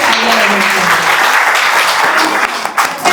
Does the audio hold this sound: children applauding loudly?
yes